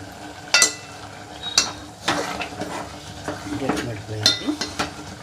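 Sweet jaggery dough stirred in a hot pan for Telugu kudumulu, a temple offering, gives a run of scraping, clattering spoon strokes over a faint sizzle, close up and irregular, with no one talking.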